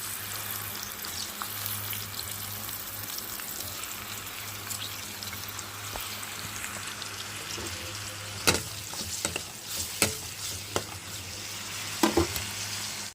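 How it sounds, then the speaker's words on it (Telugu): Onions sizzling in hot oil in a home kitchen, an even continuous frying hiss with a low steady hum beneath and several sharp stirring knocks and pops near the end, no speech. "ఆయిల్ అయితే హీట్ అయింది కదా ఆయిల్ వేసేసుకుందాం ఆయిల్లో ఆనియన్స్ వేసుకుందాం"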